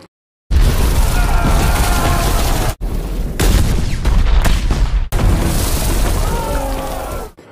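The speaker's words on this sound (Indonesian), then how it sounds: "Pasukan meriam dipimpin Ibrahim mulai menembak, dibalas dengan tembakan oleh pasukan Abdali." Loud, continuous battle din with heavy booms and blasts, dense and chaotic, broken by two brief cuts; cannon fire amid combat in a Bollywood war film about the Battle of Panipat.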